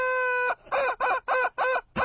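A squeezed rubber chicken toy lets out a long, close squawk, then four rapid, evenly spaced honking squeals, loud and alone.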